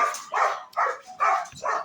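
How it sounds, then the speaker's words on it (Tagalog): A dog barks four or five times in quick succession, close and loud, each bark a short harsh burst with brief gaps between. "Ang ingay-ingay po ng aso"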